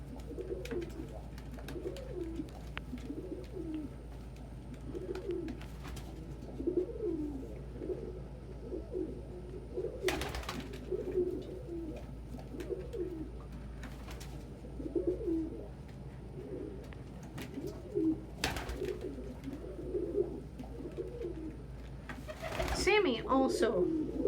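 Pet pigeons coo in a steady series of soft, throaty rolling calls, close and repeated throughout, with a few brief sharper sounds and a louder flutter of activity near the end.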